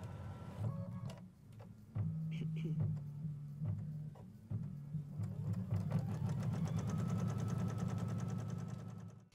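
Embroidery machine running a squaring stitch around a hooped fabric, a steady mechanical whir with rhythmic needle pulses and brief pauses, close and fairly loud throughout.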